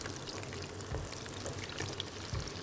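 Meat frying in oil for a chicken stuffed with spaghetti and burgers, giving a steady broadband sizzle with a few soft clinks and stirring knocks throughout, fairly close and without talk.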